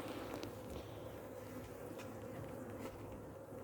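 Honey bees buzz in a close, continuous hum at a beehive, a dense insect drone with faint rustling and no talking.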